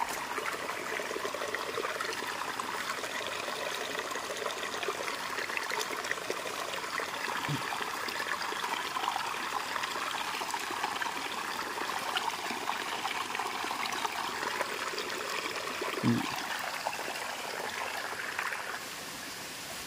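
Spring water trickling into a public village well in Sakurde, a continuous soft, close babble and dribble of running water with a couple of brief low thuds.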